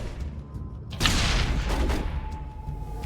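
A grenade goes off in a video game, a single loud close blast a second in that spreads into a broad roaring decay over a background rumble.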